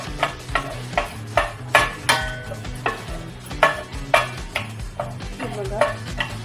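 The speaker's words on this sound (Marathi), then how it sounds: "त्याच पॅनमध्ये आपण हे मेथी दाणे सुद्धा भाजून घेणार आहोत।" Fenugreek seeds dry-roasting in a pan for a sweet, sour and spicy pickle, a steady run of sharp scraping stirs against the pan over a low background hiss, close up and without talk.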